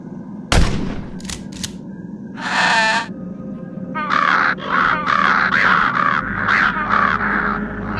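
A crow caws in World of Warcraft machinima: a sharp bang, then a run of harsh, loud, close caws in an uneven series over a low background hum.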